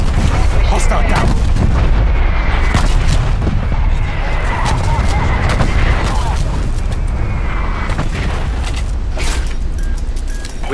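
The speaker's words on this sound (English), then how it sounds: "Naga requesting artillery barrage." A video-game artillery barrage thunders for about eleven seconds, with heavy blasts landing one after another in an uneven, rapid string over a constant low rumble.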